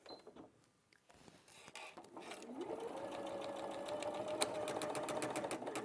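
A sewing machine stitches a quarter-inch seam, starting after a few faint handling clicks and settling into a steady, rapid whirring hum with a rhythmic needle chatter, close and moderately quiet.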